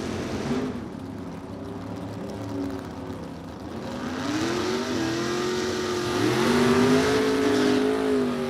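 A 1989 Chevrolet Camaro at a drag race launches with a loud, rising engine roar that climbs steadily in pitch through the gears, building to its loudest near the end.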